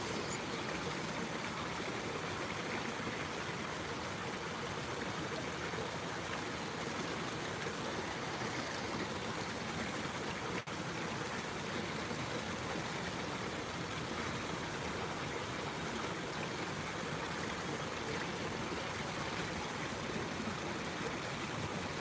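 A river flows steadily at a riverside spot, its broad, constant rushing hiss filling the air without a break, loud and even like splashing at a water park.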